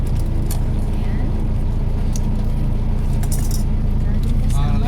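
Car keys jingling inside a vehicle, with light metallic clinks rising over a steady road and engine rumble while a person talks throughout.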